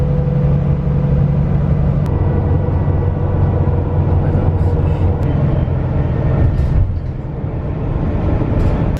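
A SkyBus airport shuttle carries passengers into Melbourne. A steady low engine rumble and road drone fill the interior without a break, with no talking.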